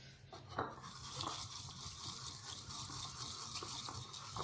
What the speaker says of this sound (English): I'm literally going to whisk it out.